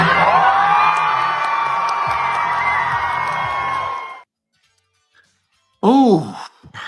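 A baseball crowd roars and cheers wildly, a dense, loud wall of voices and whoops that holds steady for about four seconds, cuts off into silence, then a brief burst of shouting returns near the end.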